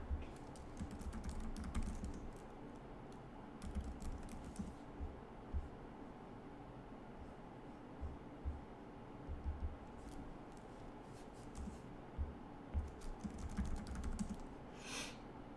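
Quiet, steady typing on a computer keyboard, with keystrokes clicking in irregular bursts over a faint background hiss and no talking.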